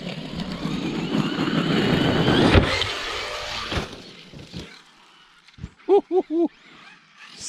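A Traxxas Sledge RC car whines and buzzes loudly as it drives, then the motor noise fades, leaving a few short bursts and a voice reacting at the end.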